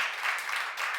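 Brief burst of congregational applause at a church seminar, a steady wash of many hands clapping at moderate volume for about a second, with no voices over it.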